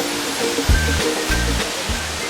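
Phlio waterfall in Chanthaburi, Thailand, sends up a steady, moderately loud rushing roar, with a few brief tonal bursts rising over the continuous water noise.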